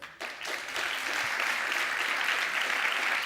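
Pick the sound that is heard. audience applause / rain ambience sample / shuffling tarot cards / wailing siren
audience applause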